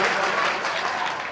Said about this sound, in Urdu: ایک بار تالیاں بجا کے مجھے اجازت دیں۔